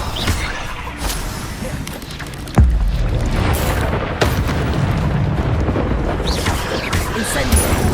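Incendio fire spell cast in Hogwarts Legacy during a fight with spiders: a sudden loud booming burst amid ongoing combat rumble and effects, with a voice shouting spell names.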